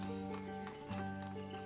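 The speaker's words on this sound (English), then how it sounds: "Oh, there comes the next horse." Horse hooves clip-clop faintly in the village-building game Ostriv as a horse cart arrives, a soft, steady patter beneath a sustained musical drone.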